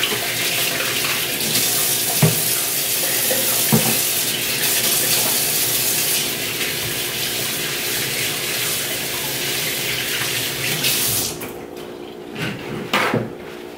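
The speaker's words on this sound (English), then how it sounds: "I'm gonna wash my hands" Tap water runs steadily into a kitchen sink for hand washing while a whole fish is prepared, a close continuous hiss that stops abruptly near the end, leaving brief small knocks.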